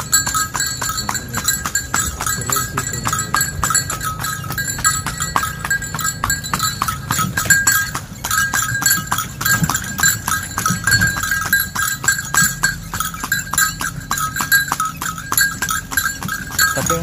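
Horse hooves clip-clop steadily on an asphalt road on a ride near the Sunan Kudus tomb area, a fast, even rhythm of sharp hoof strikes over constant road and traffic noise, with no talk.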